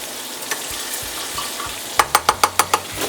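Bacon grease heats in a pan for homemade gravy, with a soft sizzle under a quick run of six sharp metallic taps toward the end.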